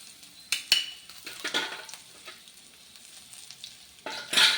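Tempering of curry leaves and asafoetida crackles and sizzles in hot oil for sago sundal, with spoon stirring and clinks against the pan; loud bursts open and close a fainter sizzle, no talk.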